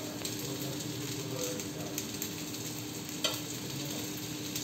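A steady, soft sizzle of a leftover-rice snack frying in a pan over a medium flame, with oil drizzled on top and a few faint clicks through an even background hiss.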